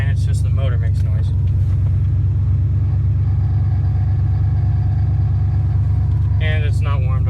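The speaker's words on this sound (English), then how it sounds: "it's just the motor makes noise" The engine of a 1992 Ford Bronco plow truck runs with a loud, constant low rumble, not yet warmed up, while someone talks over it briefly at the start and end.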